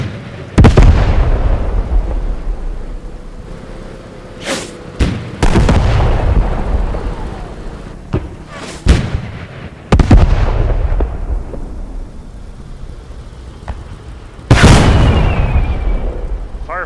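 Heavy tank cannon shots in the video game Post Scriptum, a Sherman Firefly trading fire with a German tank at a corner: several loud booming blasts at irregular intervals, each followed by a long rolling decay, with no talk.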